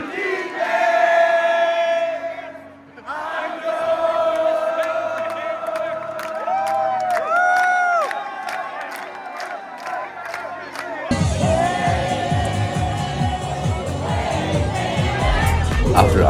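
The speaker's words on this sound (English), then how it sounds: "the voices of the crowd carried their songs into the night" A crowd at night in Rome sings and cheers loudly and continuously. Voices carry a tune together under whoops and shouts, and the cheering swells near the end.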